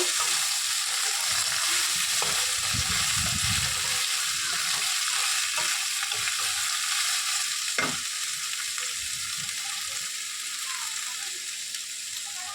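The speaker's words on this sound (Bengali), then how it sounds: "আজকে আমি কচুর লতি ভাজা করব" Taro stolons sizzle in a frying pan with a steady, dense hiss, broken by a few scraping stirs and clinks of a utensil against the pan, close and without talk.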